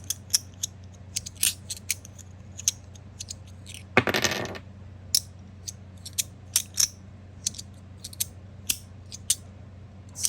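Fidget toys clacking in quick, uneven bursts of sharp, close clicks and snaps, with a dense rattling flurry partway through and no talking.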